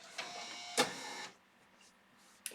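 A printer running, giving a short mechanical whir with a sharp clack partway through, then a quieter hum and a final click, close and alone.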